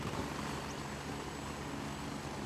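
A helicopter in the video game Gray Zone Warfare drones with a steady, loud broadband rotor and engine roar that fills the short stretch without a break.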